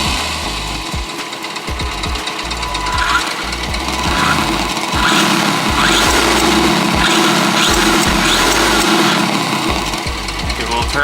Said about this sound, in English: if I just barely tap the throttle a little bit here on the radio